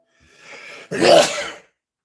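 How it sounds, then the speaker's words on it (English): One close, loud sneeze, a brief breathy inhale building into a forceful burst, then quiet. "Sneezing happened."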